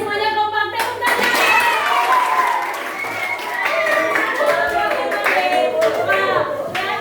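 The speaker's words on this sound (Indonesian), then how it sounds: "Oke, semuanya kompak, tepuk tangan" Children in an eighth-grade social studies classroom clap their hands in unison, a dense, energetic run of claps lasting several seconds with faint young voices mixed in.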